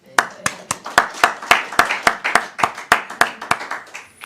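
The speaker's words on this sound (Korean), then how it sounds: "우리 목사님께 감사의 박수를 한번 올리겠습니다." A church congregation claps together during a worship service, with sharp, evenly spaced claps in a steady beat of about four per second, close and loud, with no talk over them.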